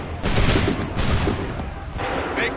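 Soldiers in Assassin's Creed fire a musket volley, heard as three heavy, booming blasts about a second apart, each fading into rumbling echo.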